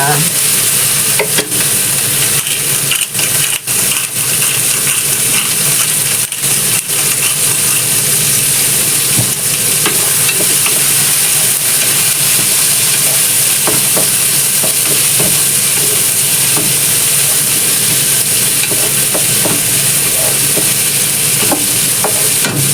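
Ginisang bihon rice noodles stir-fried in a pan, giving a loud, steady sizzle with continuous scraping and tossing throughout, no voices.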